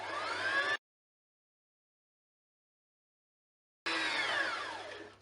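Brother LS14 sewing machine winding a bobbin, a steady high motor whir in two bursts separated by silence, the second tailing off slightly.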